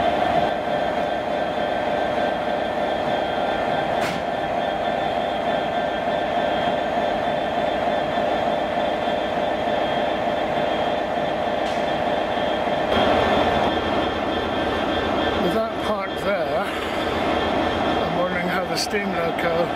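A Class 66 diesel locomotive on the West Somerset Railway rumbles past at steady loudness with a continuous engine drone and rolling wheel noise, and a brief squeal and clatter near the end.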